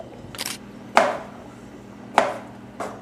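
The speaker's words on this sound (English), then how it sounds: "So now I just cube them like in a square shape." A knife cubes peeled potatoes into square pieces, giving three or four sharp, close chops on a board, spaced unevenly, with a softer rustle before the first.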